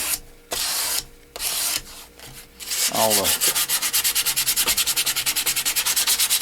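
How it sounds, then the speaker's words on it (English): Sanding a knife handle by hand, with a few short scratchy strokes followed by a steady fast rhythmic rasping, close and loud with no talk. "I'll sand it and get it close, and then I'll raise the grain"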